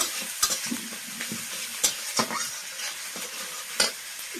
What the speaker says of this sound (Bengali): আদাটাও দিয়ে দিলাম, আদাটা কষিয়ে নেব।